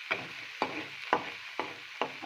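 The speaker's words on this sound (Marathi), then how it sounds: "असं छान 10 मिनिटं परतायचं." Dried fish (sukat) stir-fried in a pan, with five evenly spaced scraping stir strokes over a soft background sizzle, close and fairly quiet.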